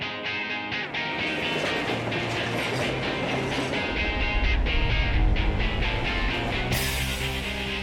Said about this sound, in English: We just passed through the longest tunnel in America, and that was a smooth ride.